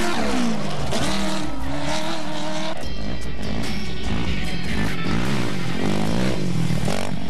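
Team McMillan's off-road race truck tearing along the 2009 Baja 1000 course, its engine loud and close, revving up and down in surging waves with gear changes across several seconds.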